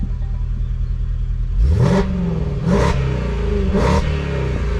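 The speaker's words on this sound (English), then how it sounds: "Oh, what a great sound. It never disappoints, this engine." Manhart-tuned 600 hp Range Rover Velar SV with its exhaust valves open in dynamic mode, revving hard in three loud, sharp bursts over a steady idle rumble, each rev rising and falling back quickly.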